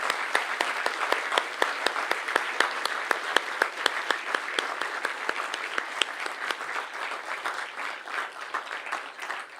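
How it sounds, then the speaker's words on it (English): A crowd at a Donegal school district graduation ceremony gives a sustained round of applause, many hands clapping in a dense, even patter that carries on for several seconds before tapering slightly at the end. "can you please stand and join me in a round of applause for those I had just mentioned?"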